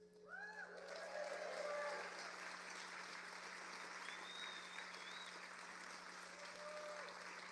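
Faint, steady applause from a political rally crowd, a continuous distant patter of clapping that swells slightly early on, with a voice briefly audible at the start.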